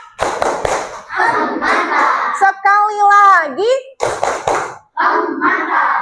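Sixth-grade children in a classroom doing a rhythmic clapping chant, bursts of claps alternating with chanted and sung voices, with a teacher speaking in between.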